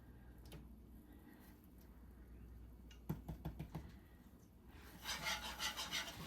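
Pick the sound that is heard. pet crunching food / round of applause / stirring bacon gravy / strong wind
stirring bacon gravy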